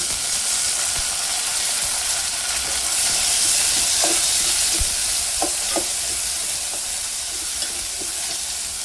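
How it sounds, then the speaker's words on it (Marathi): Tomatoes hit a pan of onion and garlic fried to a reddish colour for a Vidarbha-style dal with brinjal, giving a steady close sizzle and hiss with a few light stirring clinks, no voices. "आपण टोमॅटो टाकूया।"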